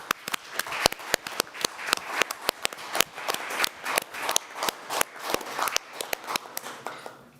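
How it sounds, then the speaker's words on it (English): Audience clapping at a school district board of education meeting, a steady patter of many hands from a modest crowd in an indoor hall, moderately close, with no speech over it. "Okay, we're going to applaud."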